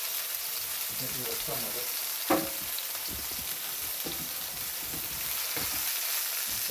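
Pork chops fry in a hot pan with a steady close sizzle, broken by a few spatula scrapes and knocks while a person speaks briefly.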